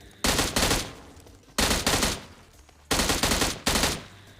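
Gunfire from Battlegrounds Mobile India gameplay: three loud, close bursts of rapid automatic fire, each about a second long, separated by short pauses, with no talking.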